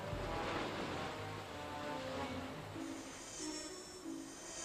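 Sea waves crash against rocks beside an island lighthouse, a continuous broad roar of surf swelling and easing, with wind in the background.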